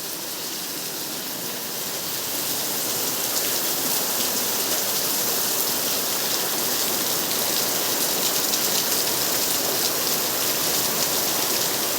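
Heavy rain pours down steadily, a dense, even hiss that swells slightly after the first couple of seconds and stays loud throughout.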